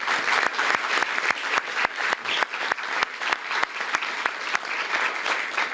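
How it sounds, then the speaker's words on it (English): Audience applause fills a formal city hall event where a mayor names a police chief and corrections director, a steady sustained clapping from a crowd at moderate loudness, with a few sharper individual claps standing out and no talking. "I want to give her a round of applause for dealing with those issues"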